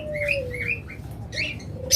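Close pigeons chirp and coo in short soft calls, a few brief tweets over a low steady background hum.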